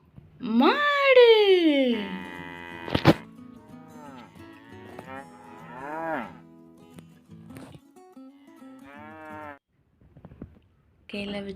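A cow moos once, loud and drawn out near the start, followed by someone speaking warmly over quiet handling noises.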